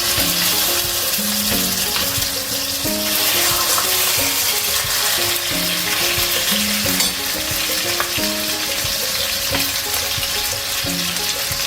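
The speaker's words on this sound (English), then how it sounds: "Ooh, sizzling away there" Loud, continuous sizzling of food frying too hot in a pan for a quick Cambodian dish, with light clinks and scrapes, while a melodic tune plays in the background.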